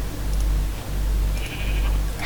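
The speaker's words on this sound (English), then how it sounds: "Look at your sheep." Sheep bleating in the Minecraft video game: a steady low hum runs underneath while faint, brief synthetic bleats surface once or twice, with no talking.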